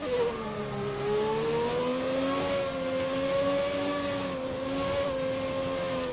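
F1 2020 race cars idle and rev on the grid before a formation lap at the French Grand Prix, a steady high engine whine with slowly wavering pitch that holds loud and continuous throughout.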